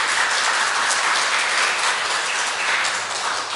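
A church congregation gives steady, dense applause for a young man's solo instrumental performance at a Sunday worship service, a full continuous wash of clapping with no one speaking.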